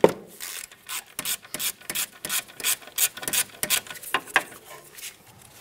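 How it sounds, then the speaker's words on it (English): A ratchet wrench loosens a 13 mm caliper bolt on the rear brakes of a 2009-2019 Ford Flex, giving close, uneven bursts of rapid clicking and rasping with brief pauses between strokes. "I'll start by loosening this top one."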